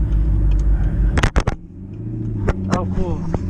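A twin-turbo rear-wheel-drive Audi R8 drones along, heard from inside through slightly open windows, with a low engine rumble beneath a person talking and a few brief clicks.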